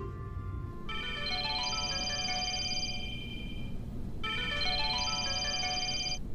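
A telephone rings with an electronic melodic ringtone: two clear bursts of ascending tones separated by a short pause, over a quiet room background.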